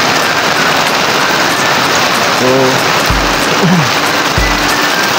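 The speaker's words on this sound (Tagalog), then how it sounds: "Kasi ang lakas talaga ng ulan," Heavy rain pours steadily, a dense, loud hiss of drops on surfaces filling the whole span, with a brief word spoken and a couple of low thumps underneath.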